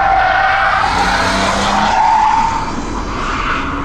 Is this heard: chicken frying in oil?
no